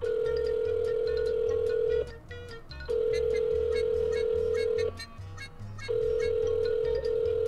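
A phone call rings back in the steady repeating pattern of a ringback tone, three long tones separated by short gaps, loud and clear before a voicemail answers.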